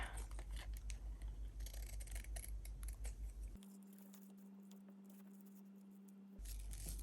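Scissors snipping paper wing shapes for a craft journal, a quick run of close rhythmic cuts, then a quiet gap before a little more activity.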